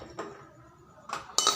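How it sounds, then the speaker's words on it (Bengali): Whole spices are tossed into a hot metal kadai to dry-roast for homemade chicken masala, making a few quiet, brief clinks and rattles with a short scatter of sharper ticks at the end. "কড়াই গরম হয়ে গেছে, আমি দিয়ে দিচ্ছি মশলাগুলো।"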